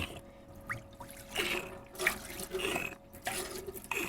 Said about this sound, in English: Flushing out all the sediment with some nice clean drinking water.